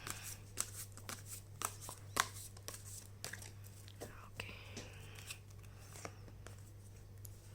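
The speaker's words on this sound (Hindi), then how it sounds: "मैं पहले कार्ड्स ले लूँगी, तो आपको अगर शफलिंग नहीं देखनी है तो आप शफलिंग स्किप कर सकते हैं" Tarot cards are shuffled close by in quick irregular riffles and soft slaps, fairly quiet, with a low steady hum underneath.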